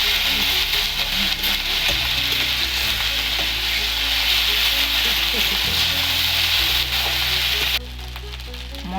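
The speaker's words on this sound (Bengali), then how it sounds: "মশলাটা একটু ভাজা হয়ে গেছে" Ginger, garlic and onion paste frying in oil, a loud close sizzle with soft spatters and occasional stirring, fading sharply near the end.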